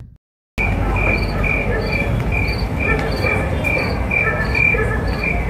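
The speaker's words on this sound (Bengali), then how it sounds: "এই যে আর্টিফিশিয়াল ঝিঝি পোকা ডাকছে।" An artificial cricket chirping effect plays loudly at a Durga Puja pandal in Chennai, repeating short regular chirps over a dense low rumble of crowd and ambient noise.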